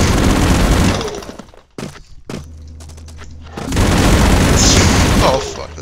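Chain gun fire in the side-scrolling game Expendabros, loud rapid bursts and booms that cut in and out, with a sharp gap of quieter rattling before a sustained heavy barrage returns.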